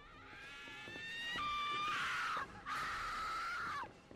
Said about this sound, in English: That's the craziest screams I've ever heard.